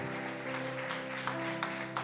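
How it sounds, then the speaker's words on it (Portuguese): A church congregation at a deliverance service claps together in steady, fairly soft applause, with a few sharper claps standing out and a faint held musical tone underneath. "Você poderia aplaudir ao Senhor Jesus por essa noite?"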